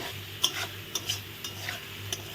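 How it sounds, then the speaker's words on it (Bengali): A spoon stirs potatoes and spices in a hot frying pan, with soft scraping strokes and a few sharper clicks about every half second over a steady, quiet sizzle. "মশলা দিয়ে এখন আলুগুলো কষিয়ে নেবো"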